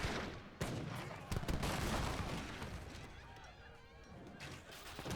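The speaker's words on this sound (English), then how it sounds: "here comes the mortar" Mortar blasts and musket volleys crackle in an Age of Empires 3 battle between Italian and Spanish armies, a dense continuous barrage of gunfire with sharper bursts over a rumbling wash.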